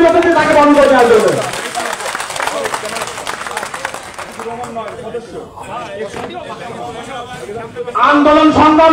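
An audience at a party meeting breaks into sustained clapping for a party member, a dense patter that runs for several seconds, with a speaker's voice just before and returning at the end.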